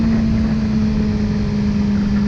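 A loud, steady engine drone from a Suzuki GSX-R 600 sport motorcycle holds a constant high pitch, revving at sustained speed around 7000 rpm, close and unbroken.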